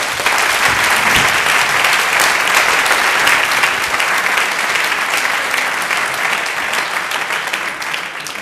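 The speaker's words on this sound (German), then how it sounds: "Meine Damen und Herren, einen herzlichen Applaus für den David Wecker!" Theatre audience applauding a comedian as he is introduced on stage, dense loud clapping that holds steady throughout and tapers slightly at the end.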